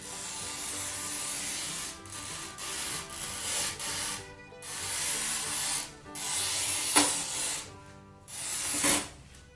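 A circle cutter held by a suction cup scrapes around its cut in repeated close rasping strokes, with brief gaps between passes and no talking.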